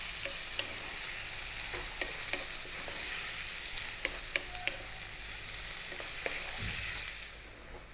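Prawns frying in a pan with a steady, close sizzle and occasional light pops and clicks of stirring, continuous throughout and fading slightly at the end.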